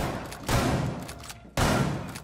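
Two heavy blasts of gunfire in the video game Rainbow Six Siege, each a loud, broad crack decaying into a rumbling tail, close and harsh, with no talk over them.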